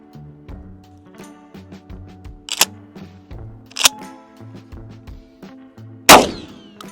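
A Mossberg 990 shotgun fires buckshot from the hip: three sharp, loud blasts come at uneven intervals, with the last one the strongest, over a steady tonal background bed.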